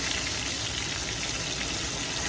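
Chicken cutlets fry in a very hot, smoking skillet, giving a steady, dense sizzle and crackle that stays loud and close throughout, with no talking.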